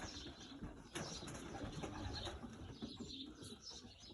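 Alarmed pigeons fill a young-bird loft shed after a D-mite fumigator bomb is lit, with steady agitated cooing and rustling, occasional wing flaps and bursts of movement throughout.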